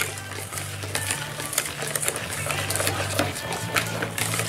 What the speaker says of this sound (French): Voilà, je remue bien.